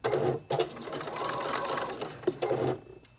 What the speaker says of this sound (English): just sew 1/4 inch. Remember to back stitch a couple.